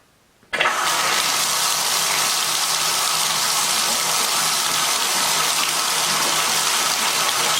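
A newly installed faucet pouring water into a clawfoot tub, starting abruptly after a moment of quiet and then gushing in a loud, steady, close rush with no talking.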